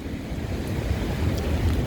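High ocean waves at Gulf Shores during Tropical Storm Cristobal make a constant loud roar of surf, mixed with wind buffeting the microphone and rising slightly toward the end.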